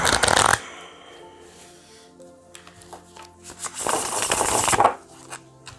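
Oracle cards are shuffled close by, with a loud riffling burst at the start, soft tapping and sliding of the deck in between, then another long riffle near the end.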